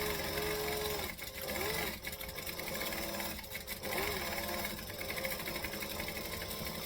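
A bag-dedicated sewing machine stitches a tote seam forward and then back-stitches, running as a steady close mechanical whir with a couple of brief pauses where it stops and restarts.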